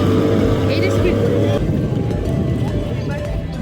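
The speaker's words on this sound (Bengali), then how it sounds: "আমাদের বোট চলে এসেছে" A motorboat arriving at Maithon Dam, a loud, close, steady engine rumble with a churning hum that shifts slightly partway through.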